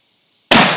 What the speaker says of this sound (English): The first one that we're going to shoot. The 3-inch Magnum first.